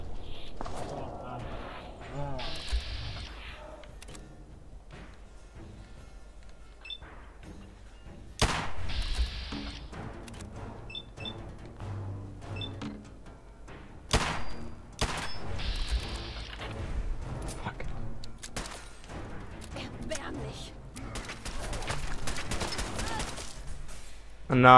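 In Fallout 4, Kellogg's pistol fires a few sharp, punchy shots spaced several seconds apart over game ambience, while a player talks throughout.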